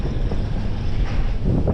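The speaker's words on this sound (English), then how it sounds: "The wind is unbelievable." Strong wind roars and buffets the microphone on a bikepacking road trip across America in 2023, a loud, steady low rumble with gusty swells and no talk.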